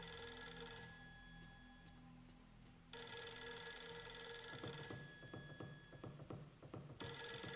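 A telephone rings in the horror video game Fatal Frame 3, steady electronic ringing tones in a drone-filled room, with a cut partway through and low murmuring or game sounds underneath.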